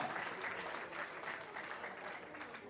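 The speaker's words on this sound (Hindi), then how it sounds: "जोरदार ताली बजाओ जो समझ गए।" A crowd at a Hindi comic poetry gathering claps steadily throughout, a continuous, moderately distant patter of many hands without pause.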